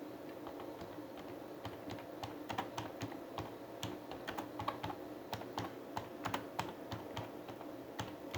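Rapid, irregular clicking of keys on a computer keyboard as someone types a line of text, steady soft taps with occasional louder strokes, close and alone without speech.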